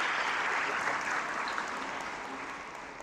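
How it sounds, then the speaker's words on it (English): Audience applause after a talk at an international food security conference, a dense, steady wash of clapping from a large crowd that stays fairly even and tapers slightly toward the end. "What I'd like to suggest is to first give a round of applause to Prof. Ken Giller again."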